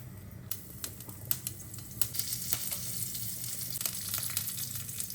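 Mustard seeds, cumin, urad dal, chana dal and dried chillies fry in hot oil as a tempering for cabbage poriyal, a soft steady sizzle dotted with sharp pops and crackles, faint and close.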